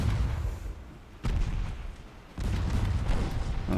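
Naval gunfire in a naval war game, with 7-inch shells striking in two heavy booming impacts over a continuous low rumble of battle, with no talk.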